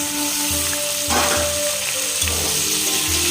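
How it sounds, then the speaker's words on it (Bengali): Raw pumpkin and potato sizzle and crackle in hot oil in a pan, a steady bright frying hiss with occasional bursts as the pieces are stirred. "কুমড়োটাকে একটু ভালো করে ভেজে নেব"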